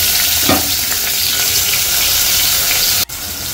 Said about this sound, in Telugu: కుక్కర్ వేడైన తర్వాత ఆయిల్ వేసుకున్నాను. కొంచెం జీలకర్ర ఆవాలు, దాని తర్వాత మనం కట్ చేసుకున్న వెజిటబుల్స్ అన్నీ వేసేసుకోవాలి.